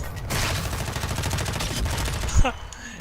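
Rapid automatic gunfire from the shooter game Warzone 2, a fast close volley of shots ending in a louder burst, followed by a brief rising electronic tone.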